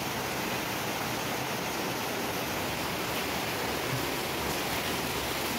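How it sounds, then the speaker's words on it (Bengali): Heavy rain pouring outdoors in a dense, unbroken hiss heard at a steady level throughout, with no voices over it. "তো দেখতে পাচ্ছ কত জোরে জোরে বৃষ্টি হচ্ছে।"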